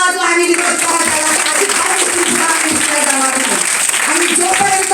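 An audience claps and applauds steadily at a public speech, a dense, loud wash of clapping with a voice talking over it.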